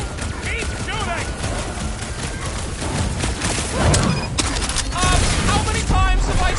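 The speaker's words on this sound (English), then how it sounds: "Keep shooting." Gunfire in a Guardians of the Galaxy video game fight: scattered shots and thumping impacts over busy game music and effects, with characters talking throughout and louder blasts toward the end.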